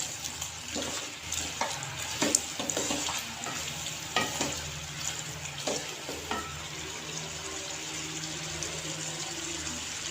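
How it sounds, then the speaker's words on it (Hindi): Beef sizzles and fries steadily in a karahi, with repeated scraping and stirring clatters from a spoon over about ten seconds. "इसको हमें अच्छे से पकाना है, हमें अच्छे से भूनना है"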